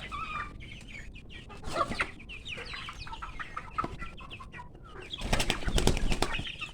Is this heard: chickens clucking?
yes